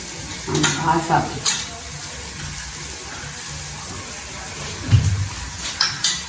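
Masala spices frying in a home kitchen pan give a steady, close sizzle with occasional stirring scrapes and bursts, while a voice speaks briefly over it.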